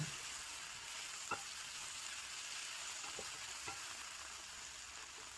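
Onions fry in hot oil in a pan, giving a steady, even sizzle with a few soft stirring clicks, and no voices.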